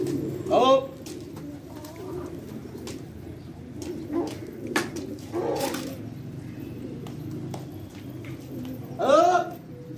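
Pigeons coo in a low, continuous murmur close by, broken by a couple of sharper, louder calls near the start and end, with faint clicks and shuffles in the background.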